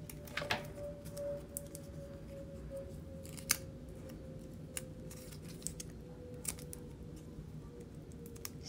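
Scissors snip through craft material for a keychain in a quiet room, a series of sharp, soft, irregular clicks close by with no talk.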